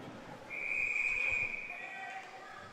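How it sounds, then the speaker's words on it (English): A referee's whistle blows once in a sustained shrill tone during a men's college ice hockey game, stopping play for a hand pass over arena crowd noise. "And we're going to whistle down for a hand pass."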